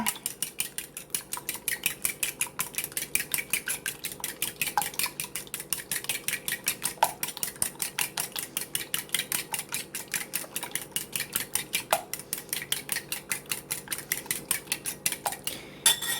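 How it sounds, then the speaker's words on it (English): A utensil stirs casserole ingredients for breakfast tater tot casserole in a bowl, a fast steady run of rhythmic clinking strokes, close and alone throughout. "let's mix these up"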